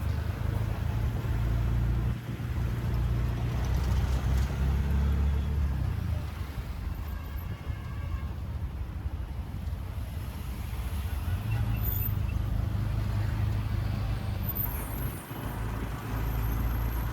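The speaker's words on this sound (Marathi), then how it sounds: "ही आहे आमच्या मुंबईची ट्रॅफिक" On a sunny Mumbai street, traffic rumbles past at moderate distance: low engine drone from cars, trucks and buses, with swells as heavier vehicles pass, occasional hisses and faint horns, and steady road noise throughout.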